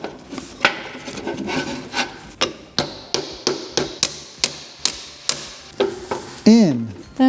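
Suspension bushing lugs are hammered through a tiny house trailer frame plate in a run of sharp, evenly spaced metallic blows, close and loud, ending in a short scraping squeal.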